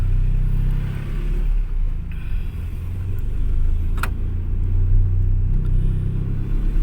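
Tuned Chevrolet MY18 pickup with a remapped engine and burnt-tip exhaust pulling away from a launch, a loud, close, steady engine rumble that swells as it accelerates.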